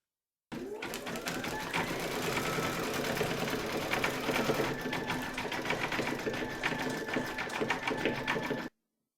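A home embroidery machine stitches white thread for a dog's eyes on a faux fur coaster, a steady, fast mechanical whir with rapid needle clatter running unbroken for several seconds, close and fairly loud.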